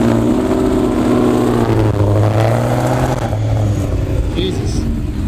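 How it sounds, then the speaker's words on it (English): A supercharged Ford Cobra engine with a big cam and ported Eaton supercharger revs and drones steadily nearby, a throaty mechanical roar with a rising supercharger whine, while a voice talks over it. "Sound like you had a supercharger on there"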